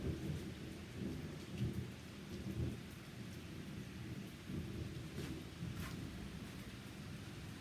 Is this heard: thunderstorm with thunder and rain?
yes